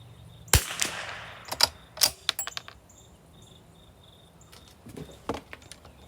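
.22 rimfire rifle shots with Eley Match ammunition ring out outdoors: a handful of sharp, irregularly spaced cracks against a bed of chirping crickets.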